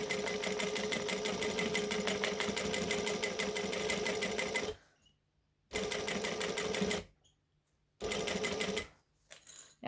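A sewing machine stitching through bulky vinyl in loud, rapid bursts: one long run, then several shorter runs separated by silent pauses.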